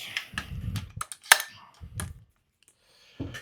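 An APFG MPX-K airsoft gun cycles after a nozzle and bolt carrier repair, giving a quick series of sharp, close mechanical clacks and clicks with short handling noises between them. A quiet pause follows, then one more burst of clatter.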